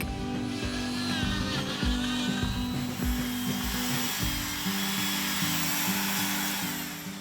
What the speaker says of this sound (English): I'm switching to a die grinder, a large rotary tool with a grinding burr attachment for more precise detail work